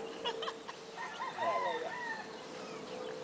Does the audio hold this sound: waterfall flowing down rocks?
no